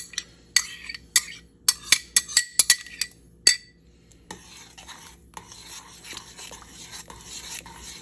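Ramen noodle casserole, King Ranch chicken style, stirred in a pot: a series of sharp clinks and scrapes of a utensil against the pot over the first few seconds. Then comes a steadier wet, sizzling churn.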